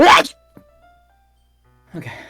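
A single sharp sneeze bursts out loudly at the very start, followed by a faint click and near silence, then a person speaks briefly.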